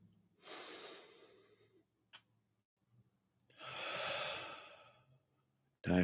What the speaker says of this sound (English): Diaphragmatic breathing, nasal breathing.